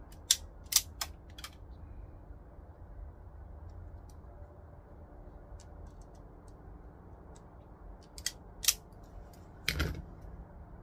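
A wire end is trimmed off during electrical work on a TYM T25/RK25 tractor, producing a few faint, crisp snips and clicks close by against a quiet hum.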